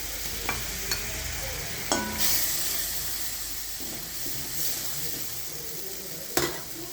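Roasted masala with gram masala and milk for a sev tamatar sabzi sizzles steadily in a pan, with a few sharp scrapes and clinks of a spoon stirring it, loud and close throughout.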